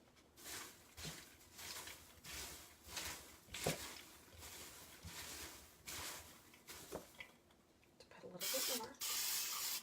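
A Misto oil sprayer pumps out fine mist in a series of short, soft hissing bursts, close and fairly quiet, with a couple of longer sprays near the end.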